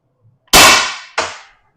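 Two sharp shots from a Defense Innovations DI.68 paintball-style launcher during a range test, each a loud bright crack with a ringing decay, the second shorter, close and isolated with no talk.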